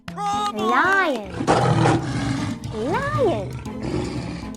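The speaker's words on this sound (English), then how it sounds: "Lion," A lion's roar, a broad, rough growl in the middle, set between bright, sing-song voices in a children's animal-sounds lesson.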